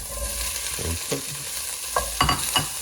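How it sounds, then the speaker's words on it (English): Sausage for Cajun red beans sizzles in a pot under a steady frying hiss, with several close scraping stirs and clunks of the pieces being turned. "Next thing we're going to do, we're going to put in the sausage"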